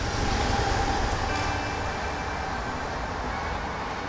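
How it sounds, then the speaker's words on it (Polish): A train passes by in a city near a park, a steady heavy rumble and rolling rail noise held at an even level throughout, heard from some distance outdoors without speech. "akurat przejechał pociąg"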